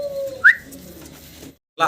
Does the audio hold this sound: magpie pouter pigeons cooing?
yes